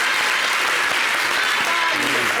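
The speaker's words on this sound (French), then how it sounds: "Merci d'applaudir Tata Glisse." Loud, continuous applause from an audience at a children's Christmas television show, a thick even clatter of many hands that fills the whole stretch without a break.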